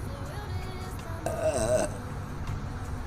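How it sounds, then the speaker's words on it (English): A single short burp from a woman, a brief croaking rise against quiet room sound. "Burp."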